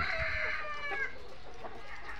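Layer hens on a farm cluck and call in a short burst of overlapping bird sounds, close and fairly loud, fading into quieter farm background.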